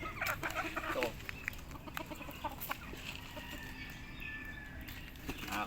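Lemon 84 gamefowl chickens in a backyard give scattered clucks and short calls at a moderate distance, with a brief burst of wing flapping near the start and quiet outdoor ambience between.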